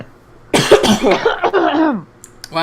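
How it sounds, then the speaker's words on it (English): Two people coughing at once, close and loud, a burst of rough overlapping coughs and throat-clearing lasting about a second and a half before trailing off. "we both coughed at the same time, damn"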